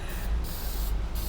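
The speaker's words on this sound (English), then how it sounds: "It's an aerosol sanding sealer," A steady, continuous hiss of an aerosol sanding sealer spraying onto a turned wooden dish, close and fairly loud, with no pauses through the whole stretch.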